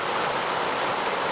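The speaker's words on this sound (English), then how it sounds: "I've run into this small set of falls too" A small waterfall on a brook, a drop of a couple of feet, gives a steady, close wash of rushing water that holds an even level throughout, with no voices.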